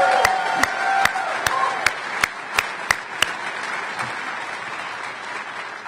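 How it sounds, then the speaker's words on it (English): Audience applause at a bill signing ceremony, a broad roomful of clapping with a series of sharp, evenly spaced nearby claps punctuating it before it fades steadily. "he really deserves one more round of applause, actually."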